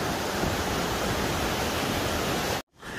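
Strong water rushes out of a cave in Vang Vieng, Laos, as a dense, loud, continuous roar that cuts off abruptly near the end before the rush fades back in.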